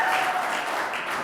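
Brief, even applause from a crowd at an evening tribute event for the Handspring and Palm teams, a dense wash of many hands clapping with no talk over it.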